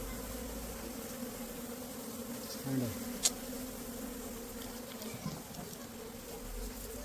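Honey bees hum steadily inside a plastic can, a continuous low drone with a brief louder buzz partway through.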